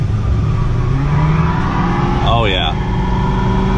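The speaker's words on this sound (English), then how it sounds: "Already does a great burnout." A Ford Crown Victoria ex-police car roars loudly and steadily through a burnout, the engine held at high revs up close while someone speaks briefly over it.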